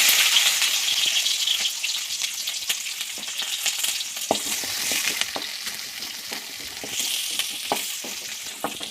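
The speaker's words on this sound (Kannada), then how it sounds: "ಜೀರಿಗೆ ಸಿಡಿಯುವಾಗ 1 ಈರುಳ್ಳಿ ಹಾಕ್ಕೊಳ್ಳಿ" Onion frying in a tablespoon of oil with spluttering cumin seeds for a capsicum curry, a steady close sizzle with scattered sharp pops and crackles throughout.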